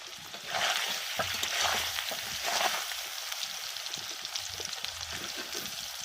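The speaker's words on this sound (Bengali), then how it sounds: "পনিরগুলো ভাজা হয়ে এসছে, এবার আমি তুলে নেব।" Paneer cubes sizzling in a pan with turmeric and salt, a steady close frying hiss with brief crackling bursts throughout, heard alone.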